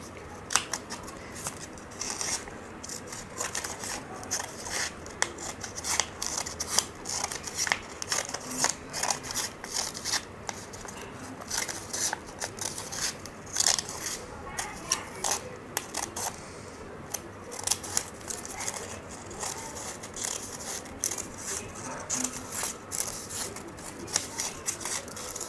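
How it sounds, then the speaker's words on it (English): Paper strip being cut with scissors near one edge, a long run of quick, crisp snipping and rustling strokes, close and fairly quiet, with no talking. "Now instead of cutting through the center of the strip, I'm going to cut near to one side."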